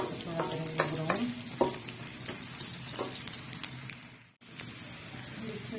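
Ginger and garlic brown in a frying pan for village-style sarson ka saag, with a close sizzle and stirring scrapes, some clinks early on and a brief dropout near the end before the frying resumes.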